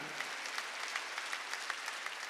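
Steady applause from a church congregation during a worship service, a dense patter of many hands clapping at moderate volume throughout.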